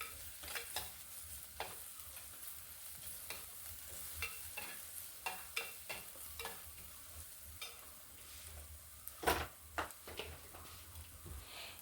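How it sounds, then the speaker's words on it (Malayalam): Ginger-garlic paste sautés in a pan for a fish curry, a soft continuous sizzle with repeated spatula scrapes and clicks against the pan, close and fairly quiet, without speech. "ഇതും കൂടി ചേർത്ത് നന്നായിട്ട് വഴറ്റിയെടുക്കാം"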